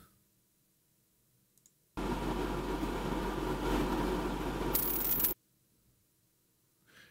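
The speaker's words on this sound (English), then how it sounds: "Can you hear ice freeze?" Ice freezing sound effect, a sudden burst of dense crackling hiss that holds steady for a few seconds, sharpens with a bright fizzing edge near the end, then cuts off abruptly into quiet.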